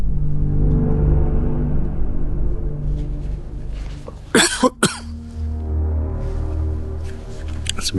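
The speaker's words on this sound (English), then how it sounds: "That's me coughing." A person coughs in a quick burst of several harsh coughs in a quiet room, set against a low steady hum.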